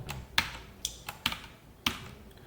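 Keys clacking on a computer keyboard while coding a Java JDBC text board program, a handful of separate sharp taps spaced unevenly, one or two standing out louder, close and alone with no talk.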